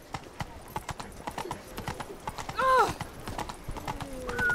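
Video game horse Roach gallops with rapid, steady hoofbeat clip-clops, a short whinny rising midway, while a voice speaks briefly over the running.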